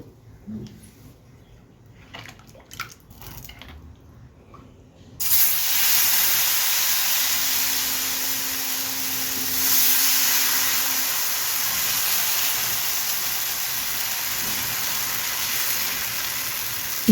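Onion dosa made from Balamrutham flour batter hits a hot pan after a few quiet seconds, then a loud, steady hissing sizzle takes over and holds to the end, with a faint tone briefly underneath.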